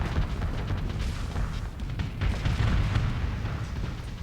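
Spaceship weapons fire and explosions in the space combat game Starsector form a continuous, dense rumble of booms and blasts, loud and unbroken throughout.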